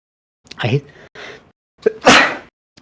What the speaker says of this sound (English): Apologies for the phantom sneeze there.